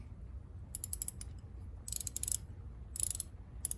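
Quick bursts of light metallic clicking from Channel Lock and Pittsburgh ratchet wrenches being worked by hand, four short clusters with quiet gaps between, close and fairly soft.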